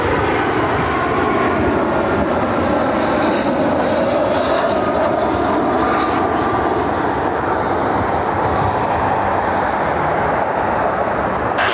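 A UPS cargo plane rolling out at Cleveland Hopkins airport, a loud, steady jet engine roar with broadband rumble and hiss that holds throughout, with no talking.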